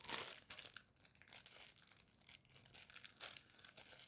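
Plastic wrapping on an online-order package being pulled and crinkled open, giving faint, close, irregular rustling and tearing throughout.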